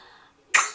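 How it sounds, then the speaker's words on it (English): A single sharp, explosive sneeze bursts out after a brief hush, loud and close, preceded by a faint high whine. "So many sneezes."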